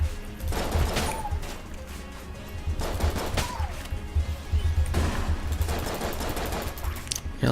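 Rapid shots from a semi-automatic gun in the game Enter the Gungeon, a fast irregular volley of punchy pops and thuds repeating throughout, with brief chirps and crashes between bursts.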